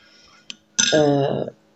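Dishes and cutlery clink and rattle together while being dried, a sharp single tap followed by a sustained burst of ringing clatter, close and fairly loud.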